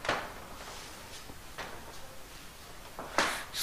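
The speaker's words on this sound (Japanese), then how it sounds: "すごいギシギシ言うね、ここ。" Old wooden floorboards in a historic Western-style school building creak under footsteps in a few separate groans and squeaks, moderately close and heard without speech, the last one louder.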